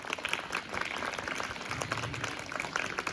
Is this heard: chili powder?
no